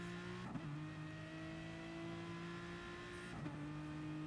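Race car engine revving hard in a sim racing game, a steady sustained drone with held tones and two brief shifts or blips partway through, no talking.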